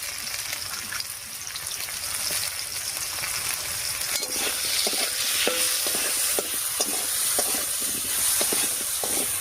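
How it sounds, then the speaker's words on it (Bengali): Cut potatoes fry in hot oil with a steady, loud, close sizzle and hiss that lasts throughout, with faint spoon scrapes against the pan in the second half. "এই তেলের মধ্যে কেটে রাখা আলুটা দেবো"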